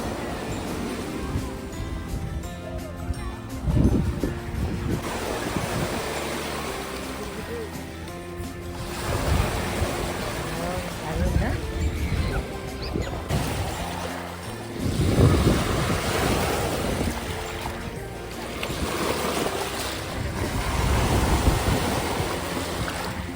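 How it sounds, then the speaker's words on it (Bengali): Waves roll in on a freshwater lake at Niagara-on-the-Lake, surging and breaking in uneven swells every few seconds while gusty wind buffets the microphone close by. "কি হাওয়া, ঢেউ দিচ্ছে দেখ। ঢেউ দিচ্ছে, ঢেউ"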